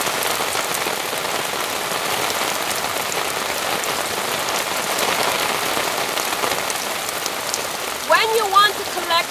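Steady rain falls and drips from a house roof, a dense even patter throughout, with a few brief higher sounds near the end.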